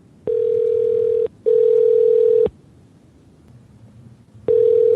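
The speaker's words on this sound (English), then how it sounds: "we're calling him right now." A telephone line sounds while a call is being placed: a loud, steady pitched tone in long pulses of about a second, separated by short and longer gaps.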